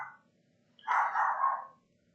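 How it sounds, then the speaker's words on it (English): Dogs at home late at night, one short faint yelp followed after a pause by a single drawn-out bark or howl, moderately near against an otherwise quiet background. "Oh, my dogs are barking."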